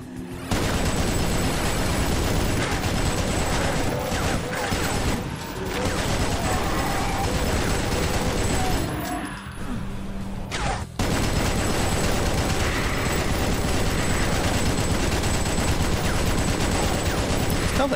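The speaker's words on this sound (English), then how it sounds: "Ah, the chain gun's back." Sustained gunfire from a chaingun in Doom, loud and continuous for most of the stretch with a brief dip near the middle, layered over game music and effects.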